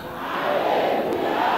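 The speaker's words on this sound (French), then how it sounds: "Une foule, un public dit Alléluia." A congregation's massed shout rises quickly and stays full and loud, a dense wall of many voices at a church service.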